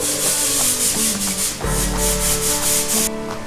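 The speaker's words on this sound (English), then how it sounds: "Give it a scrub." Acid stain is scrubbed into a garage's concrete floor with a brush, producing loud, close, rhythmic scraping strokes back and forth with no talk.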